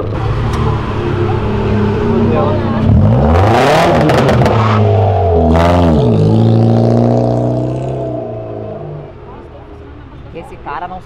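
A car accelerates and revs hard during a street drift, the engine note rising and falling in loud sweeping surges close by, with people talking over it.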